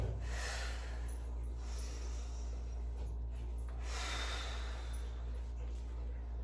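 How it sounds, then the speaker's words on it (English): Heavy breathing during an exercise workout, with repeated rough breaths and huffs close up over a steady low background hum. "Obviously, I'm breathing heavily, just keeping that breath going."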